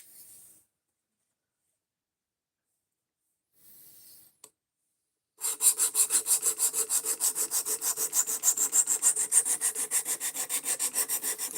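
A knife blade is rubbed back and forth on a sharpening stone during a reprofile job, making steady rhythmic scraping strokes, close and continuous, after a few brief earlier rubs.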